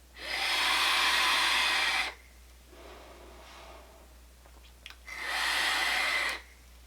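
Two long, loud airy draws on a SMOK TFV12 Cloud Beast King sub-ohm tank at 180 watts with the airflow mostly open, each a strong hiss lasting about two seconds, separated by a quieter pause with a faint exhale.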